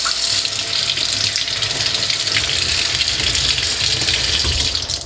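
Warm tap water runs steadily over an egg at a sink, a continuous close splashing rush that holds at an even level throughout.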